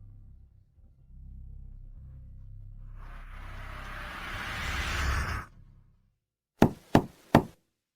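Three sharp knocks on a door come in quick succession, loud and close, after a rising whoosh that fades into silence.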